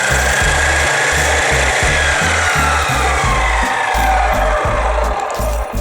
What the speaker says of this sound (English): first show you what this saw sounds like when it is running off of that 150 feet of